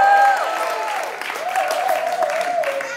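Audience clapping and cheering at a breakdance battle jam, a sustained burst of applause with crowd noise and tonal voices or music ringing over it, loud and close throughout.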